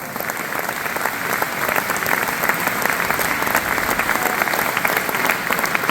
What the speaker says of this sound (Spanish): Denle un aplauso al Rey de Reyes en esta noche.